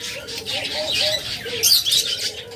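Caged lovebirds and cockatiels at a bird farm chatter with sharp chirps and squawks, a louder burst of shrill calls rising midway over a busy background.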